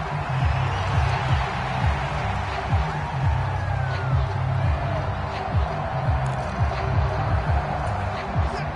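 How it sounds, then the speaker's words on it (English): A football stadium crowd roars steadily in the final seconds of a goal-line drive, a dense, loud wash of cheering that runs throughout, with a commentator's voice heard over it. "This crowd doing all they can."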